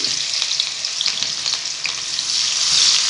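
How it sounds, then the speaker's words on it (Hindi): Finely chopped medium onions sizzle and crackle in hot oil in a kadai, a steady, close frying hiss with small pops and stirring, no voices. "यहाँ पे सबसे पहले मैं प्याज डालूंगी, मीडियम साइज़ की बारीक कटी हुई।"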